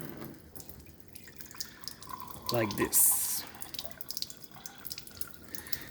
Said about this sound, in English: This is the alkaline water coming out, and this is the acidic with the bad minerals that we reject.